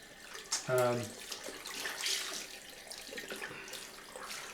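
Cold tap water runs steadily into a sink during a straight-razor shave, a continuous splashing wash with a brief louder gush near the start, close by.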